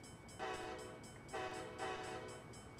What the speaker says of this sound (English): I'll honk the horn again for you guys.